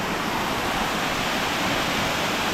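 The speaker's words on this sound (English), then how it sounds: "We are at Katoomba Falls right now." Katoomba Falls in the Blue Mountains pours as a loud, steady broadband rush of falling water, close by and constant, with no voices over it.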